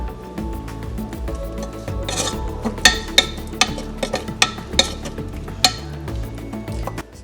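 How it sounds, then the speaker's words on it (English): Tomato frying and being stirred in a pan for Haitian cornmeal, soft sizzling under a run of sharp utensil clinks and scrapes against the pan, spaced irregularly and close. "So just fry up the tomato a little bit."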